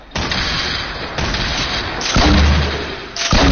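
Loud, rapid blasts and heavy booms from grenade launcher fire in GTA 5, a dense run of explosive thuds that swells into a deeper boom near the end, with no talking over it.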